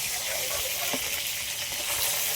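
Hilsa fish frying in hot oil gives a steady, dense sizzle that holds evenly throughout with no pauses.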